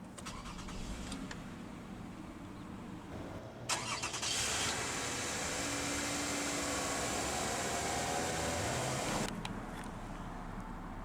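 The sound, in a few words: 2009 Toyota Camry SE V6 engine starting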